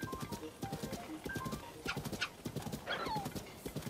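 Rhythmic clip-clop of a horse's hooves at a steady trot in the video game Zelda: Tears of the Kingdom, with a whinny partway through, moderately faint and without speech.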